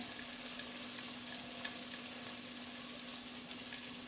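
Onions are sautéed in a pan for keema aloo matar, making a soft, even sizzle with light crackles and a low steady hum behind it.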